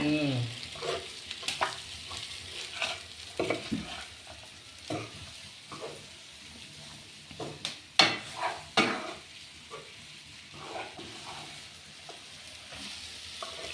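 Small bitter gourds fry in a pan and are stirred, a constant sizzle broken by repeated scraping and clattering strokes that come close and clear, with no talking.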